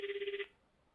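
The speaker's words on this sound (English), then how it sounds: "You scroll to Kathy's phone number and press the call button." A phone call rings through a handset with a brief rapid warbling tone, about half a second of pulsing ring that stops abruptly, leaving near silence.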